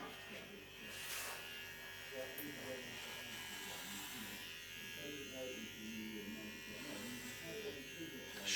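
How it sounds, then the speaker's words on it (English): Electric shaver buzzing steadily as it shaves the middle of a head where a non-surgical hair system will be fitted, a close continuous hum with slight variations as it moves, with a voice talking over it. "Shaving this middle bit now."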